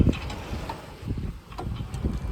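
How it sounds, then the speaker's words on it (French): Wind noise at sea aboard a sailboat heeling at about seven to eight knots: a low, rumbling buffet against the microphone that swells and eases, with faint splashes, and no voices. "on voit que d'un coup il y a le vent qui monte"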